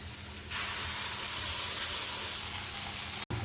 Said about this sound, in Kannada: ಮಸಾಲೆ ಫ್ರೈ ಆಗ್ತಾ ಬಂದಿದೆ.